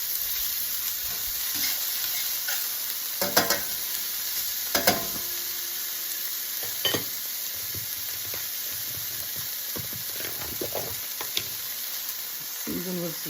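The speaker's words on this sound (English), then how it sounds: "our oil's getting shimmery now, and in's going our peppers and onions. Mix them around." Peppers and onions sizzle in shimmering hot oil while being stirred, a steady moderate hiss with a few sharp scraping strokes of the spoon and pan clatter.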